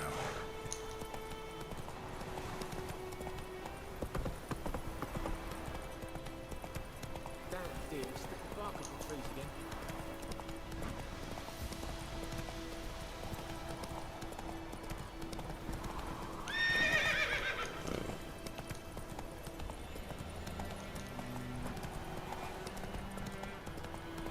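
Roach, a horse in the video game The Witcher 3, gallops with steady clip-clop hoofbeats throughout, breaking into a loud neigh near the middle, all layered over game music.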